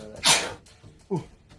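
A single sharp sneeze bursts out near the mic, followed by a brief word spoken quietly.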